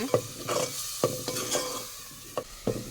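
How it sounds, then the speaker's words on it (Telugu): Onion frying in oil, a soft sizzle under repeated brisk stirring, with about six distinct scraping strokes of a spoon against the pan, close and clear. "అదే నూనెలో వేసేస్తున్నాక ఇంకా ఉల్లిపాయ మొత్తం కూడా"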